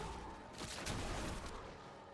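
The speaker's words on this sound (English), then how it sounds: "Make sure we're not in that explosion." A blast goes off in Diablo 4 during Season 10 play with a Shred Druid build, a dense, rumbling burst of crackling impacts that swells and lingers for about two seconds amid busy game noise.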